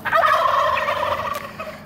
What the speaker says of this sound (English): Well, he got some turkeys.